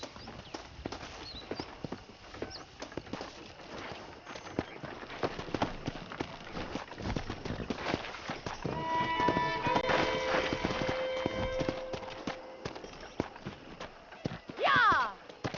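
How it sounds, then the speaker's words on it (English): Hooves drum in a rapid clip-clop as wild horses gallop in the video game Red Dead Redemption, swelling louder midway. A horse whinnies near the end. "That ranch hand said there's a pack of wild horses nearby."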